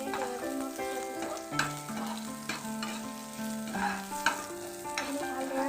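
Onions and two green chilies fry in hot oil for an Assamese dish, giving a steady close sizzle with occasional stirring clatter beneath sustained background music.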